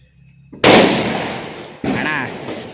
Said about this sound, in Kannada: ಈಗ ಲಕ್ಷ್ಮಿ ಪಟಾಕಿ ಹೊಡೆದಾಯ್ತು